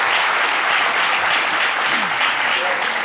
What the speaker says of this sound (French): on l'applaudit très fort pour l'accompagner